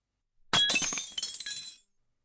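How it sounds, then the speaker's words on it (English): A ceramic teacup shatters in one sharp crash, followed by a brief spray of tinkling shards that dies away within about a second, alone against silence. "The teacup shatters."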